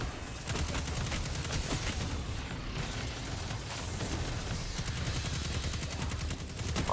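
Rapid bursts of pulse rifle fire from a Destiny 2 firefight, loud and close, repeating in a steady rattling rhythm for several seconds with only brief gaps.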